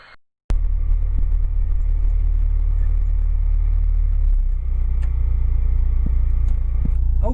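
A car on a drive, heard from inside as a steady loud road and engine rumble that starts abruptly after a short quiet lead-in and holds throughout, with a few faint clicks near the end.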